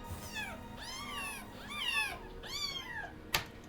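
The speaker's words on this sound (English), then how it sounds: "So another one I took is some baby kittens." Baby kittens meow close by in four or five high, plaintive calls spaced about half a second apart, followed by a sharp click near the end, with no talking.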